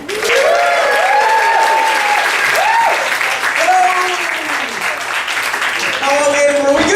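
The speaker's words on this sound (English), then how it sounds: "Please put your hands together, whoop, cheer, holler, and make an uncomfortable amount of noise for your host, David Murphy!" A comedy club crowd at the Edinburgh Fringe applauds steadily and loudly for several seconds, with whoops and cheers rising over the clapping as the host is welcomed on stage.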